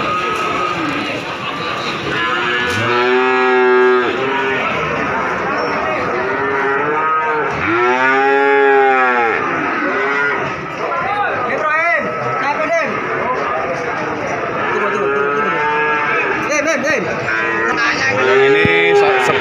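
Cattle moo repeatedly, some loud drawn-out calls close by, over a busy crowd murmur and people talking at the Wonoasih cattle market in Probolinggo, Java.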